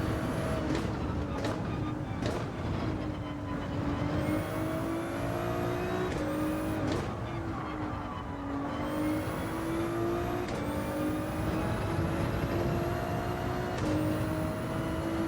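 A Ferrari 296 GT3 race car in Gran Turismo 7 at Lago Maggiore drones steadily at high revs, its engine pitch rising through each gear and dropping sharply at quick upshifts, loud and continuous without speech.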